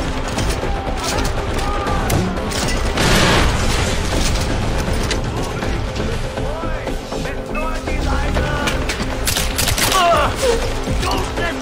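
Rifle gunfire in Far Cry 4 crackles amid loud, dense game combat, with bursts and booming impacts running throughout under a constant wash of battle noise.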